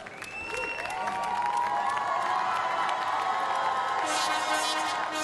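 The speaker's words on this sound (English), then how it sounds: "on vous demande d'applaudir le Fabio Watanabe et Alvaro Gasparetto dans le box numéro 5 du Brésil" A crowd at the Bocuse d'Or cooking competition applauds and cheers, with whistles and shouts rising over steady clapping that grows louder and stays full and lively.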